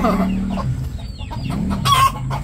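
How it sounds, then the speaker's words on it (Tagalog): Several chickens cluck and squawk over a steady outdoor murmur, one bird letting out a louder drawn-out call toward the end. "Maiingay na po yung mga manok at nagsisihapunan."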